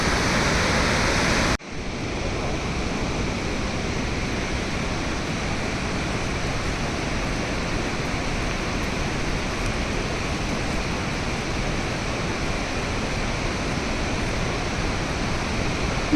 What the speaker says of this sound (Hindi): ये नीचे जो नदी बह रही है ना, इतना शोर इतना शोर।